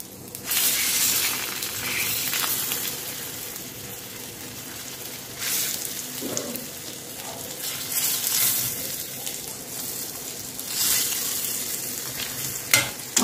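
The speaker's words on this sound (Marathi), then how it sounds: "आता मी याच्यामध्ये टाकून घेते अंडा आपण याच्यामध्ये फ्राय करून घेऊ" Eggs fry in oil on a flat iron tawa with a steady, moderate sizzle, broken now and then by louder swells and occasional scraping of a spatula; no one speaks.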